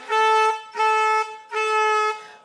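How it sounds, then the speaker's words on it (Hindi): A comedy honking horn sound effect is played as a joke for a perfume spray on a comedy show, three loud, sustained nasal honks in a row with brief gaps between them. "तुमने ये हॉर्न तो बजा दिया"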